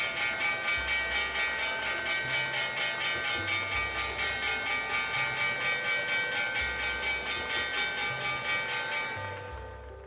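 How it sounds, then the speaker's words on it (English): A stock exchange opening bell rings in rapid, evenly spaced strikes that blend into a sustained metallic clang for about nine seconds, then fades out; there is no talk over it. "There is the bell."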